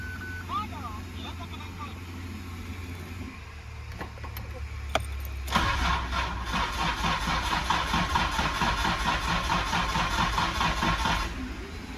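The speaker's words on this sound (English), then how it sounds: "the car really should fire right up with no problems" A Nissan R33 Skyline is cranked over and catches, its engine settling into a steady mid-pitched idle close by, with people talking before and during the start.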